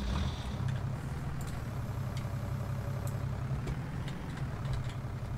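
A tractor engine idles in the Farming Simulator 19 video game on the Sosnovka map, a steady low mechanical drone that runs evenly and fairly quietly with no talk over it.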